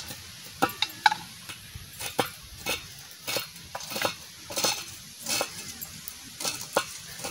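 Potato peels being chopped finely with a knife, close and fairly quiet, in a rapid irregular series of crisp taps and scrapes, with no talk.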